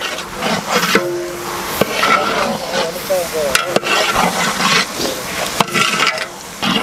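Ingredients frying in oil in a huge pot for a 10 kg batch of brinji rice at a temple cooking event in Pondicherry, with steady loud sizzling and repeated scraping, clanking strokes of a large stirring ladle.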